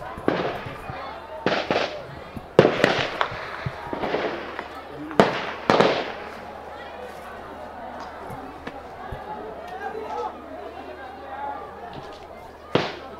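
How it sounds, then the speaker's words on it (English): A recorded low-level gun battle with police shooting: sharp scattered gunshot cracks, some loud and near, others fainter, fired irregularly over a background of murmur and ambient noise. "that's kind of what a low-level gun battle sounds like"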